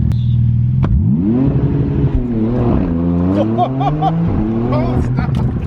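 A Porsche 911 Turbo (991) with Soul exhaust mods roars as it launches and accelerates hard, the engine note climbing through gear changes, loud and close, with bursts of excited voices mixed in.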